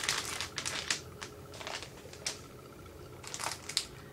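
Plastic sticker packaging from an unboxing of 19 princess and superhero stickers crinkles in several short, bright bursts, quiet and close, with pauses between handling.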